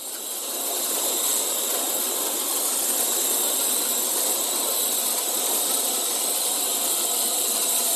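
A small FPV mini camera drone hovering nearby with a steady, high-pitched whirring buzz from its propellers, continuous and fairly loud throughout, with no talking.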